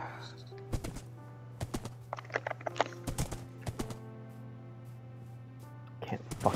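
Horse hooves clip-clopping in the Minecraft video game, irregular clusters of hollow knocks at close range, with a steady background hum and a speaking voice underneath.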